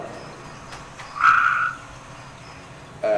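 A frog gives a high, sustained trill that rises above a soft outdoor hiss, then another trill begins near the end.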